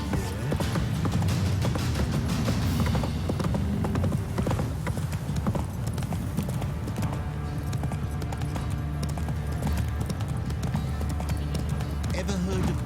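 Roach, Geralt's horse in The Witcher 3, gallops with a steady, fairly loud clip-clop of hooves that runs throughout, while character voices talk over it.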